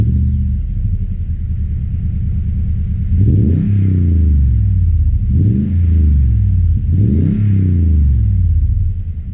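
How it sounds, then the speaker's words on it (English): A 2021 Toyota Tundra TRD Pro pickup idling with a deep exhaust rumble, then revved three times in even succession, each rev swelling loud and falling back to the steady low burble. "Let me see if I can give you somewhat of an exhaust clip"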